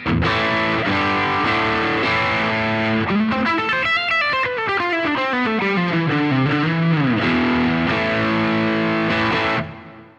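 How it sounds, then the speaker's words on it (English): Heavily distorted electric guitar through a drive pedal at maximum level plays loud chords and a sliding, bending riff, thick saturated tone sustaining throughout before cutting off. "that's the sound of the pedal with the level at the maximum"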